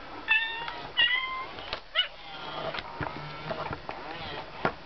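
A FurReal Friends Daisy Plays With Me Kitty toy cat lets out several short electronic meows in quick succession, fairly close and clear, with faint handling noise between them.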